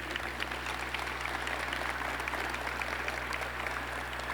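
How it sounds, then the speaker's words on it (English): Audience applause after a governor's speech at an MEC event, a steady dense wash of clapping that holds evenly at moderate level throughout. "please join me in giving a round of applause to Scott and the entire team at MEC"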